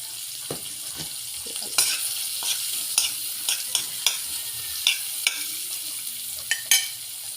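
Chili hits sardines in a hot pan: a steady, fairly loud sizzle with sharp utensil scrapes and taps recurring every half second or so as the contents are stirred, no talking.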